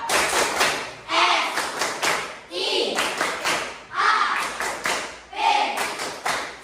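Children in a classroom clap the 'tepuk siap' readiness routine, giving bursts of rhythmic claps together with chanted voices, repeated several times at close range.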